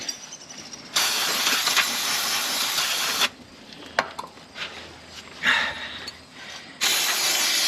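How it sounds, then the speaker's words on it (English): Brake cleaner sprayed onto a gold-painted rear Brembo brake caliper on a Legacy GT, in two long, loud, close hissing blasts separated by quieter clicks and handling noises. "Little brake cleaner to clean that off."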